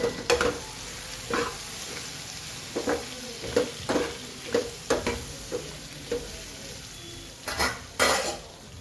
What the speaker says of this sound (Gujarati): તીખું મરચું મીઠું સરસ મિક્સ કરીએ